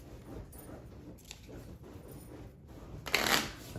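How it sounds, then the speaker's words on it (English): A deck of tarot cards being shuffled during a tabletop board game, a soft papery riffle that ends in a brief louder burst of cards flicking together close to the mic. "Let's give these one more shuffle."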